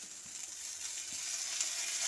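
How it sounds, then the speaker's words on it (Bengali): Okra frying in oil with a five-spice seasoning, a steady close hiss of sizzling that stays even throughout, with no talking. "আমি এখানে 5 ফোড়ন দিয়েছি আর ঢ্যাঁড়সটাকে ভেজে নিচ্ছি"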